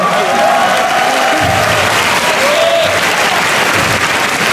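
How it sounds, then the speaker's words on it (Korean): Sustained applause from a fight-event crowd at a combat sports card, dense and steady clapping throughout with some crowd noise mixed in. "박수 한번 부탁드리겠습니다."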